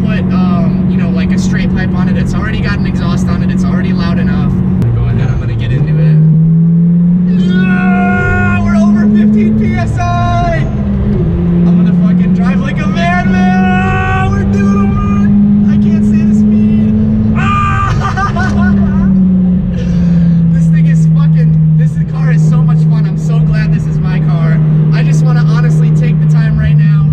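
A boosted Hyundai Genesis with an aftermarket exhaust drones loudly while driving, its steady engine note rising and falling with throttle, and people talk over it throughout.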